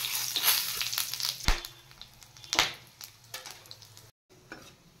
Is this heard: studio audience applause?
no